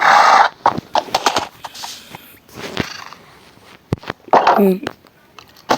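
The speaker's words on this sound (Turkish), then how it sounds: "Şimdi şu atı sürelim biraz ya." A horse ridden in the video game Minecraft gives clip-clop steps and a whinny, with someone talking loudly over the game sounds in bursts.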